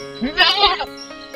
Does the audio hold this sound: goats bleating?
yes